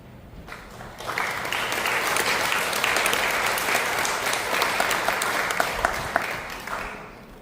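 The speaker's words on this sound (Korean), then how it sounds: "이제 우리 나오실 때 환영의 큰 박수를 보내주십니다" A church congregation gives a big welcoming round of applause for a guest lecturer at Sangdong Church, dense clapping swelling after a second and holding steady for about six seconds before tapering off.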